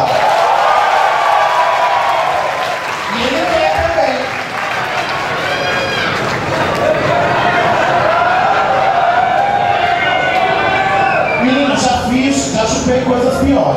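Loud, sustained applause fills a nightclub as a crowd claps and cheers continuously, with voices shouting over the noise near the end.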